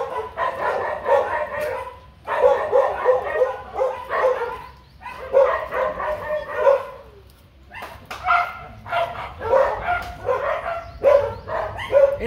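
A pack of dogs gathered around a female in heat barks and yelps continuously, overlapping in clustered bursts at moderate distance.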